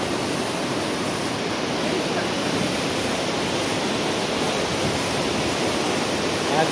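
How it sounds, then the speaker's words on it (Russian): Golling waterfall in a wet, slippery gorge in Austria roars as a steady, dense wash of rushing water, loud and unbroken throughout. "течет дальше в огромный водопад"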